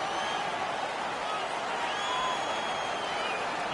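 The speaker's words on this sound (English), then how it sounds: "The crowd is ecstatic." A hockey arena crowd in NHL 17 cheers and applauds in a steady, loud wash of noise, with a commentator's voice running over it.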